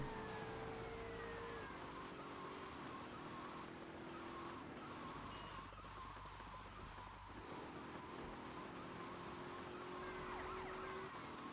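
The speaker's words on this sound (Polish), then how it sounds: "Te syreny włączę, bo mnie irytują." Police car sirens wail continuously in the GTA Vice City video game, loud and steady throughout, with rising and falling tones layered over a low engine rumble and street noise.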